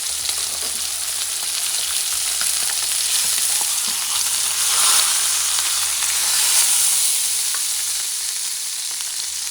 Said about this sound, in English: I'm melting some butter, unsalted butter